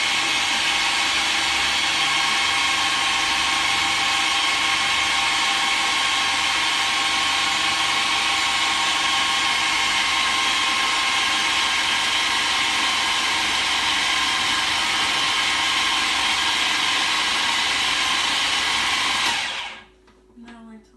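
A food processor blends hummus on high, a loud steady motor whir running continuously for about twenty seconds before cutting off abruptly, with no speech.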